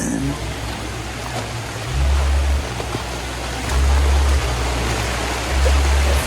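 Floodwater after Typhoon Tino rushes steadily like waterfalls, a loud dense broadband roar with periodic low rumbling surges, and no voices over it.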